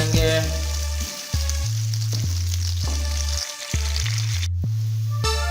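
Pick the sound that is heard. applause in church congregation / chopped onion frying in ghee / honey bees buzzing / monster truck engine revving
chopped onion frying in ghee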